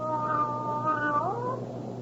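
A single drawn-out cat meow from an old-time radio mystery drama, rising and wavering before sliding to a lower pitch, fairly close and clear over a low background hum.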